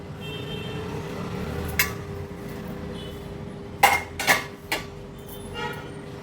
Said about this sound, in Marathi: आता झाकण उघडून बघूया.